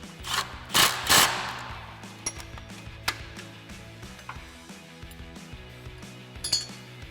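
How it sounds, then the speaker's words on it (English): A bolt and nut are tightened with a 6mm Allen bit and a 14mm wrench while fitting a Teraflex coil spring lift kit on a Jeep Wrangler JL. Metallic clinks and scraping rattles come first, then sparse taps and clicks of tools. "we can get our 6mm Allen bit for our bolt and a 14mm wrench for our nut to tighten that down"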